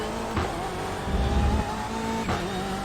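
A BMW M8 race car in iRacing at Road Atlanta drones steadily under acceleration, with a couple of brief gearshift blips and a swell of engine roar, loud and close, no talking.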